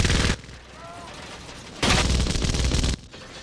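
Parabellum MG14-17 light machine gun firing in Battlefield 1, two loud, close bursts of rapid automatic fire, a short one at the start and a longer one about a second long, separated by quieter ambient battle noise.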